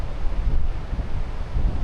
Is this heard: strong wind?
yes